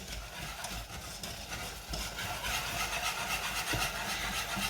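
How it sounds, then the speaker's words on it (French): Caramel being stirred hard in a pan, a continuous scraping, rasping swirl that grows slightly louder and busier toward the end, steady and close with no speech. "Vous voyez, il faut vraiment bien remuer."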